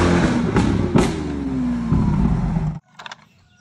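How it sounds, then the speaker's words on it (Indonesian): A jeep passes close by, its engine revving loudly with clattering bursts, then the noise cuts off abruptly and only faint sounds remain. "Ada mobil Jeep teman-teman."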